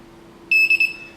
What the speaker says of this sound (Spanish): A los 3 segundos nos da un pitido indicándonos que podemos proceder a teclear el código de instalador